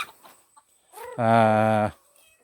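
A chicken in a coop at an oil palm plantation clucks a few times, then lets out a loud, drawn-out squawk before things fall quiet again.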